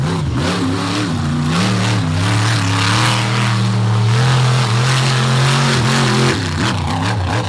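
Darren Basil's race truck Blockhead rolls out for a bye run on the Bloomsburg track, its engine loud and close, revving up and down in wavering surges with a harsh mid-pitched roar throughout.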